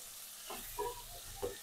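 Fish heads hiss and sizzle as they drop into a hot pan of oil, with short bursts of crackling and a couple of sharper spits over a low background.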